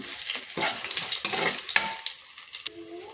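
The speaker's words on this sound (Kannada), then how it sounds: "ಈಗ ಬೆಳ್ಳುಳ್ಳಿ ಬಂದುಬಿಟ್ಟು ನೀಟಾಗಿ ಫ್ರೈ ಆಗಬೇಕು." Crushed garlic fries in a pan with a close crackling sizzle, broken by several scraping stirs, then fades to a quieter simmer near the end.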